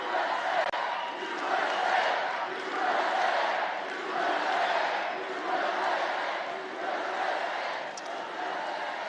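A large crowd at a Trump birthday rally roars and chants in swelling waves, loud and close, rising and falling in a rhythmic pulse of cheering voices.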